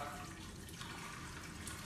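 Water pours steadily into the rear reservoir of a Cuisinart filter coffee machine, a faint continuous splashing trickle heard close by without any talk.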